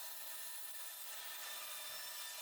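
A saw blade cuts through pinecones, keeping only the middle part: a steady, dense, high rasping whir that stays loud and even for a couple of seconds, with no voices.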